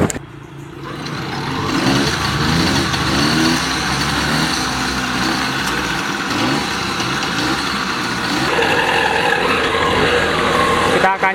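A DKW Hummel motorcycle's small engine starts and settles into a steady, buzzing idle, loud and close throughout.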